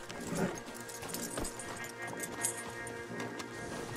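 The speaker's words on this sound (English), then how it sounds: "Marston, you're gonna tether him up to Javier's horse." Horses' hooves clip-clop in Red Dead Redemption 2 gameplay, a fairly quiet, uneven trotting rhythm of several animals with faint background game sounds and no speech.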